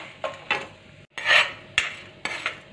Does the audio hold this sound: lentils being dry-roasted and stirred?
yes